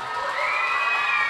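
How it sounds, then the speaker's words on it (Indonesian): Audience at Hijrah Fest, an Islamic religious event, cheering and whooping as an ustadz arrives on stage, a steady loud crowd roar with shrill high voices throughout and no clear talk. "Ya, tepuk tangan dulu dong."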